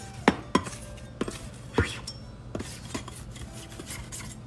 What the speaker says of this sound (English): Then we're going to loosen up the edges a bit so it will more easily come out.